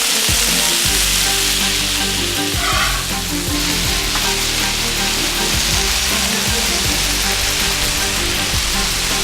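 Cajun pork tips sizzle steadily in a hot pan, a continuous close, loud crackling fry with occasional stirring scrapes and no talking.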